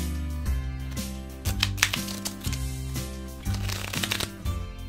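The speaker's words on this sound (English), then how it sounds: "They shuffle like cards." Plastic-coated playing cards are riffled and bridged several times in a row, crisp close-up fluttering bursts over a sustained musical backdrop.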